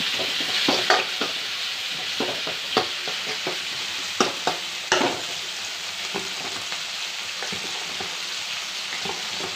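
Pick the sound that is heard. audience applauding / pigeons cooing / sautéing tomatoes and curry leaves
sautéing tomatoes and curry leaves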